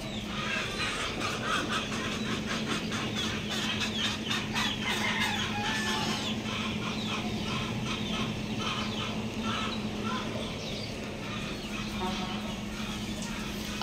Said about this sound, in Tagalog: Marami kasing manok sa baba guys.